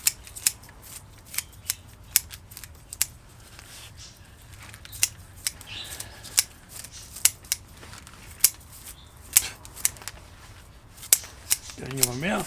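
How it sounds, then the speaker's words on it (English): Sharp, heavy-duty scissors slicing through bonsai roots during repotting, snipping crisply and close in quick, irregular bursts that repeat steadily throughout. "you're not pulling at the roots, you're just cutting right through them."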